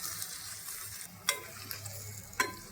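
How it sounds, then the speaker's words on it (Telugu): Blood fry cooking on a low flame, a quiet soft sizzle broken by two sharp scraping clacks of a spoon stirring in the pan. "సిమ్లో పట్టి వేయించుకోవాలండి, మాడకుండా"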